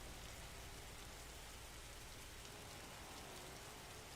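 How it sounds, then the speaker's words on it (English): Steady rain hisses as a dense, even wash of faint noise during a racing video game at Sebring, with no distinct drops or thunder standing out. "It sounds like the rain's getting a bit crazier now."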